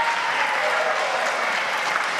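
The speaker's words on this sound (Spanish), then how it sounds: "Está muy bien que aplaudan." Members of Argentina's legislative assembly applaud during the president's speech opening the legislative year, a dense, even wash of clapping filling the hall without pause.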